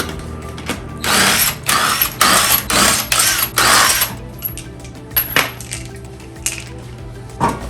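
Ratchet spinning a lug nut loose on a Subaru wheel, with several loud bursts of rapid clicking in the first four seconds, then quieter scattered clicks and metallic knocks.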